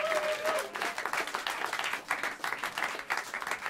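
Jazz club audience at Smalls in New York applauds drummer Jochen Ruckert: a fairly quiet, steady patter of clapping from a modest crowd, with uneven swells throughout.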